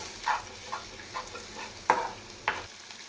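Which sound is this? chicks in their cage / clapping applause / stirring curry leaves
stirring curry leaves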